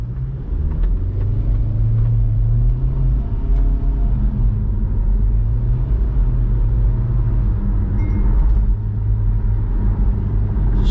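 A 2023 MG Hector SUV accelerating from 0 to 100 in normal mode: continuous loud engine and road rumble with droning tones that rise and shift through the run, heard from inside with no talk.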